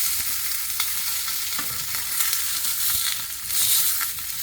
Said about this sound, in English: And now it's time to flip your fish.